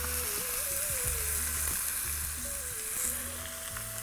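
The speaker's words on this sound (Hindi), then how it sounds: "चिकन को लेते हैं भून, तेल या घी।" Chicken fries in oil or ghee in a pan for a quick handi recipe, with a steady dense sizzle close up and faint scraping stirs beneath it, with no talking.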